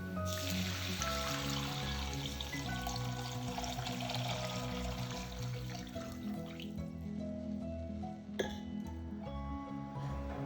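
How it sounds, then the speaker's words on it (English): Water is poured into a heavy soup pot holding browned garlic and ginger in olive oil. A rushing pour lasts about six seconds and a single clink follows near the end, with background music under it. "Now add some water."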